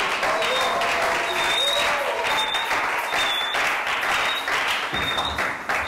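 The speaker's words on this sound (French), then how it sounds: "Nous acclamons." A church audience gives a sustained round of dense applause that holds steady and loud throughout, with a few voices mixed into the clapping.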